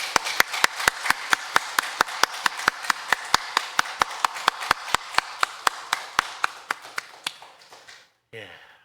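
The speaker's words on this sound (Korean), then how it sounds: "우리 힘찬 박수로 영광 돌립니다" Congregation at a Korean Sunday worship service clapping in unison, a steady, evenly spaced beat of sharp claps that slowly thins out and stops abruptly near the end.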